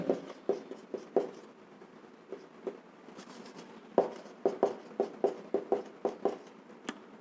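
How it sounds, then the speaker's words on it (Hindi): Chalk or marker strokes on a classroom board, a run of short scratchy taps in uneven rhythm, close and clear with no talk over them. "पहले यहां पर मैं लिख लेता हूं"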